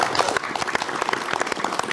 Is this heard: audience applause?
yes